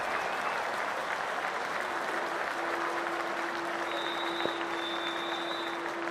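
A stadium crowd in the Cricket 24 video game applauds in a steady, full wash of clapping and cheering that holds at an even level throughout, with a faint tone running underneath.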